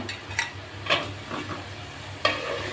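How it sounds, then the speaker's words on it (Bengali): Thinly cut potato pieces are stirred into a fried spice paste in a pan, with a soft sizzle under a few scraping spoon strokes, close and steady, with no voices. "আলুগুলো দিয়ে একটু নাড়ায় ছাড়ায়"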